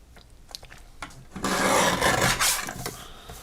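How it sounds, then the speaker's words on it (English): Paper trimmer blade rasps across craft card stock during a live crafting session, a few light taps and scrapes followed by a sustained, fairly loud rough cut close by, with no talking. "So I'm going to start by trimming a little bit off the bottom."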